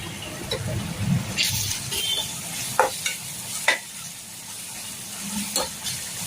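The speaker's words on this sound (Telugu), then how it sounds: "ఉల్లిపాయలన్నీ బాగా వేయించుతున్నారు బాగా మంచి బ్రౌన్ కలర్ వచ్చేదాకా వేయించుకోవాలంట" Onions frying toward brown for a village-style mutton gravy curry, a soft continuous sizzle with several sharp spoon strokes and scrapes against the pan, and a voice briefly in the background.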